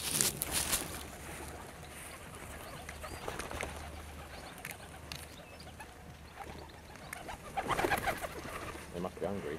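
Pigeons cooing while being fed, soft low coos and fluttery bird calls in an outdoor garden scene, faint and steady under a continuous background hum, with a brief louder burst near the end.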